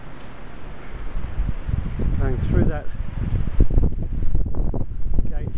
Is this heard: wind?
yes